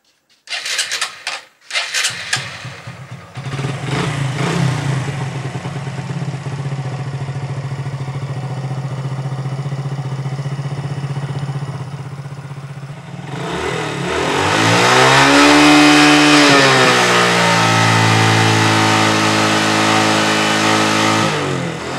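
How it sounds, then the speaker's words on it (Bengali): A cold car engine cranks and catches after a couple of tries, then settles into a steady idle before revving up louder and easing back down. "আমাদের গাড়িটা যেহেতু ঠান্ডা আছে, সেই জন্য আমরা স্টার্ট করে গাড়িটাকে একটু গরম করে নেব।"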